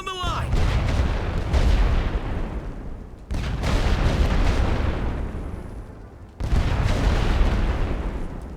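Rolling artillery barrage in a World War I Western Front trench game, a dense, continuous roar of overlapping blasts in long sustained waves, loud and near, broken by brief gaps between surges.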